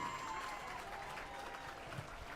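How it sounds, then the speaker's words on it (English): Faint, distant applause from spectators at a high school softball game's senior night ceremony, a thin, steady patter of clapping heard from afar across the field. "Give her a round of applause"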